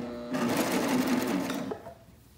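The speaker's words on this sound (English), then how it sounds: "And now we can just continue to sew down the side." A home sewing machine stitches fabric in a steady, rapid mechanical whir. It sounds close and fairly loud, then stops abruptly, leaving quiet room tone.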